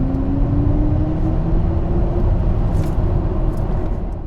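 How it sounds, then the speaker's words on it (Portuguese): A BMW iX electric car's specially designed driving sound: a deep, continuous synthetic hum with a slowly rising tone, like a futuristic vehicle gliding along, loud and close, with no talking. "O iX ainda tem um som especialmente criado para esse carro pelo Hans Zimmer, olha só."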